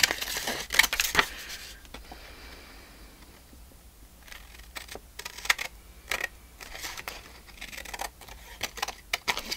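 Paper being cut by hand for a handmade Christmas tag, a series of short crisp snips and rustles in irregular clusters, close and fairly quiet, with no talk.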